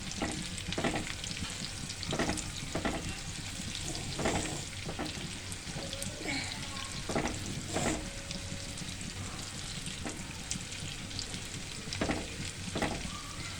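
Onions fry in a pan for chilli chicken, a dense steady crackling sizzle punctuated by repeated stirring scrapes, heard on its own without talk.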